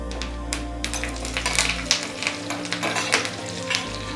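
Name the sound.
curry leaves sizzling in hot tempering oil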